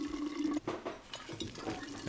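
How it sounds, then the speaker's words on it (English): Running sink water in the video game We Happy Few, a faint splashing trickle with a tonal hiss, short and quiet with uneven gurgles. "Sounds like a sink."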